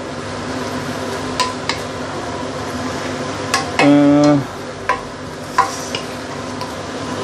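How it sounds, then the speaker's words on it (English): Sweet potato leaves stir-fry with sambal belacan in a pan, giving a soft continuous sizzle. A spatula scrapes and taps at intervals, and a brief tonal beep sounds midway. "Frying veggie is always very fast."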